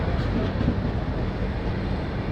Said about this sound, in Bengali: সন্ধে প্রায় 7:30টার সময় ট্রেন পাঁশকুড়া জাংশন এন্টার করছে